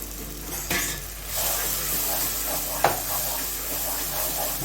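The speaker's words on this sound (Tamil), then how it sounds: "நல்லா அந்த மசாலாவை நல்லா வெங்காயம் தக்காளி நல்லா மிக்ஸ் பண்ணிக்கிங்க" Masala, onion and tomato stirred in a pan for a goat intestine gravy, with a steady sizzle, scraping spoon strokes and an occasional sharp clink of metal against the pan, close and continuous.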